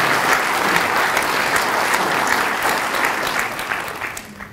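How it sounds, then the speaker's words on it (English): At a city oath-of-office ceremony, a room gives sustained applause for a recently married man: continuous, thick clapping from many hands that fades slightly toward the end. "let's give him a round of applause for that day"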